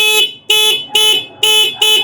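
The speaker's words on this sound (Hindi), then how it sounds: "ये इसका हॉर्न, काफ़ी लाउड हॉर्न।" An electric multipurpose mini trike sounds its horn close by, five loud, shrill honks repeated in a quick, steady rhythm with brief gaps between them.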